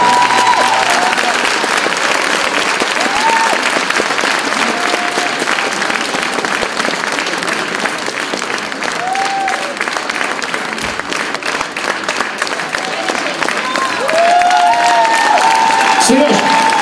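Audience applause after a song at a live concert: dense, steady clapping from a crowd that fills the whole stretch, with scattered whoops and cheers and some voices mixed in, swelling slightly near the end.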